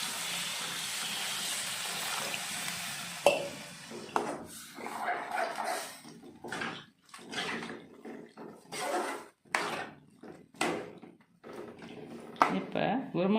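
Water pours into potato and chana dal kurma in a pan, a steady close splashing rush at the start, followed by clattering kitchen sounds and a person talking.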